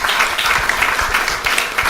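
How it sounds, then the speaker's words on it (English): An audience applauds steadily, with a dense, even patter of many hands clapping together and no voices standing out. "Give a round of applause."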